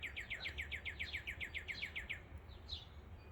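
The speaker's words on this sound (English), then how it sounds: "You got the car alarm bird." Bird with a call like a car alarm gives a fast run of about fourteen evenly spaced shrill whistled notes, then a short pause and one more note, fairly close over a low background hum.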